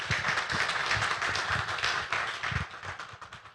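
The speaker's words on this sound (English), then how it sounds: "A round of applause, please." A crowd applauds with steady, dense clapping that fades slightly toward the end, no voices heard.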